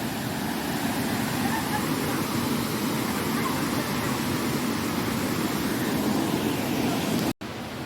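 Siruvani waterfall in Kutralam roars steadily and loudly up close, a dense continuous rush of falling water that cuts off abruptly for a moment near the end.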